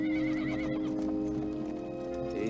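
Horses whinny with drawn-out neighs over the close, steady clip-clop of hooves, set in a 1993 period adventure drama, with no speech over the sounds.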